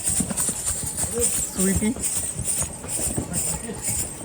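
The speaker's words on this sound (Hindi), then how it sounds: "घोड़ा, घोड़ी," Horse hooves clip-clop along the pilgrimage path to Vaishno Devi, a steady uneven patter mixed with crowd noise and people talking close by.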